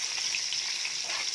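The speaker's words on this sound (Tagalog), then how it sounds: "Saute the garlic and onion." Garlic and onion sizzling steadily in hot oil while being sautéed for pork putchero, a continuous bright frying hiss with small pops, close and alone.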